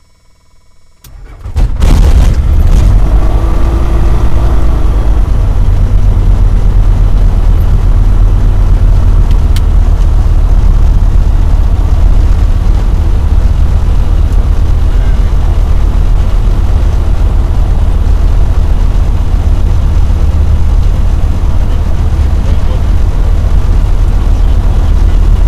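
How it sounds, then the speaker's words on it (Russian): A Tecnam light aircraft's piston engine cranks and catches after a quiet moment, then settles into a loud, steady, close-up drone with a deep rumble that runs unbroken to the end. "Запускаю двигатель"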